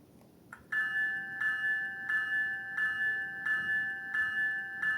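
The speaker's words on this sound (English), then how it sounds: "Here's the bell first." DCC sound bell from an HO scale GO Train cab car, ringing in a steady repeating electronic ding roughly every two-thirds of a second, clear and close with no talk.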